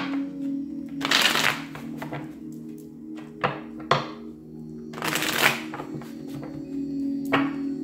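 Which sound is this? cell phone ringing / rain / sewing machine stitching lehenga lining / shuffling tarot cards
shuffling tarot cards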